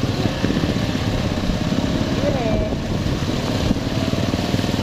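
A motorcycle engine runs steadily nearby, a continuous rough drone with no change in pace.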